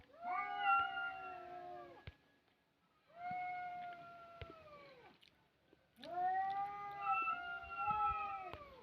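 A courting cat gives three long, drawn-out yowling caterwauls separated by short pauses, close and clear against a quiet background.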